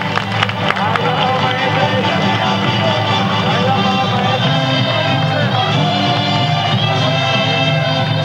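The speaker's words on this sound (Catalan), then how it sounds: "Pueden aplaudir." Audience applause at a 1996 Moors and Christians festival presentation in Benissa, a dense continuous roar of clapping and crowd babble with music-like tones, loud and steady for the whole stretch.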